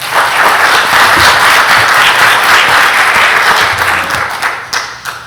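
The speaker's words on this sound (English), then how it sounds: "Give them a round of applause for that." A board meeting audience applauds student athletes with loud, dense clapping that holds steady for several seconds, then thins out into scattered claps as it fades.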